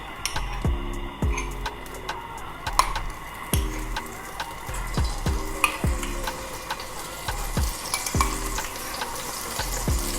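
Garlic ginger oil sizzles steadily in a hot pan, a continuous crackling hiss with regular low thumps and ticks running beneath it throughout.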